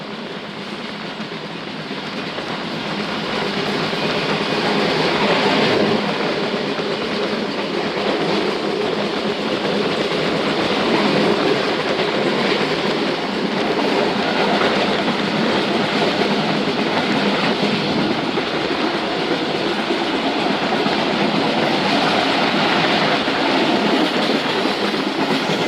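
The 116dn Musapak Express runs at night with a continuous loud rumble and rattling of carriages on the rails, steady throughout with a faint rhythmic clatter of wheels.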